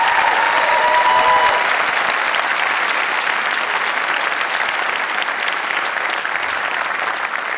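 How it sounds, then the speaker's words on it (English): A large audience applauds steadily at a law school commencement ceremony, a dense, sustained roar of clapping that fills the hall at constant loudness with no voices over it. "Graduates, can we give another round of applause to the families?"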